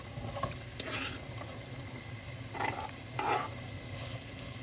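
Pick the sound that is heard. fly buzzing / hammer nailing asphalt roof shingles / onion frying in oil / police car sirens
onion frying in oil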